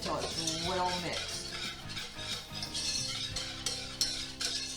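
A spoon stirs a flour and milk sauce mixture in a metal pot for a copycat Arby's sauce, with steady scraping and clinking strokes close by, repeated rhythmically throughout with no talk.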